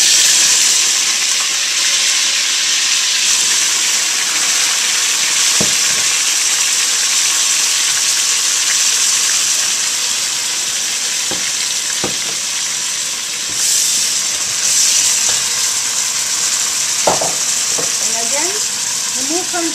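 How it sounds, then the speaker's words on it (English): Cilantro hitting hot olive oil in a pan for a lentil and dumpling pilaf gives a loud, steady sizzle throughout, with occasional stirring clinks. "Now I add cilantro."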